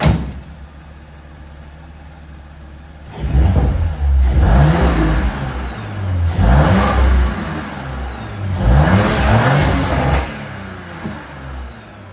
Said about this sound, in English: That's how the car sounds with the intake installed